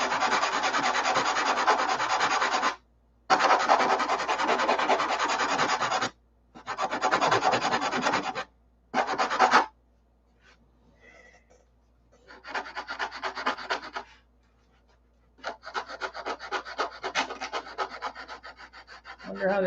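Sandpaper is worked by hand on a boat's inboard part in long, steady rasping strokes. The strokes come in several loud bursts separated by brief silences and a quieter stretch, with no one speaking.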